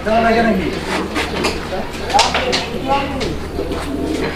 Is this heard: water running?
no